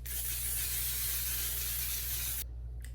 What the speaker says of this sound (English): now I do a setting spray